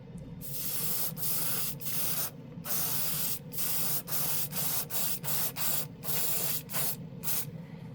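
A budget airbrush with a real wood handle sprays paint onto a wooden spoon, giving a steady close hiss broken by frequent short pauses as the trigger is released and pressed again.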